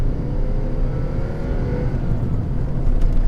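A 2008 VW Polo with a 1.2 L engine accelerates hard on a narrow country road, and its engine drone rises steadily over road noise heard from inside the car.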